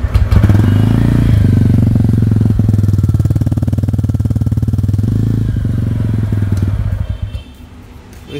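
A TVS Ronin 225 motorcycle engine revs loudly and steadily up close for several seconds, with a deep throbbing rumble, then drops to a quieter idle near the end.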